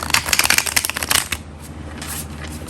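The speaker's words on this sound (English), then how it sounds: "These shuffle like beautifully when you do that." Stiff, gilded-edge tarot cards riffle-shuffled at close range, a quick burst of crisp fluttering snaps for about a second and a half, then a softer settling rustle.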